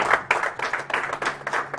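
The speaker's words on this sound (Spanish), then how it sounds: "Dale el aplauso." A church congregation claps together in a brief burst of dense, rhythmic applause, fairly close and lively.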